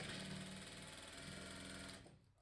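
A sewing machine runs steadily while stitching a queen-size patchwork quilt sewn from leftover fabric scraps, a loud continuous motor whir that holds for about two seconds and then stops abruptly.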